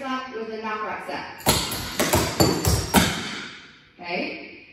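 Tap dance steps in a class routine: a burst of sharp clustered taps, slaps and landing thuds from jumps, loud and close, with an instructor talking before and after the footwork.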